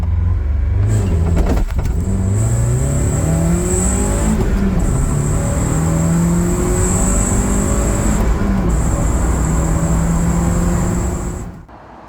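A Mazda MX-5 Miata 1.8 launches hard from a standstill in a 0-60 mph run, its engine revving up through rising pitch sweeps with gear changes, loud and close, with a brief tire chirp at the start.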